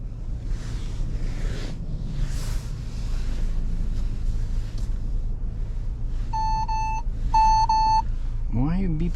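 A vehicle's warning system gives two short bursts of bright electronic beeping over a low engine rumble and wind, with a muffled voice speaking earlier and a rising squeal at the end.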